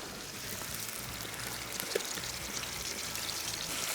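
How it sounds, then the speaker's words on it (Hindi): Mutton stock and water pour into a hot pot of Bihari mutton, a steady close splashing hiss with one small clink, and nobody talks. "मटन की यखनी शामिल कर रहे हैं। आप पानी शामिल कर दें।"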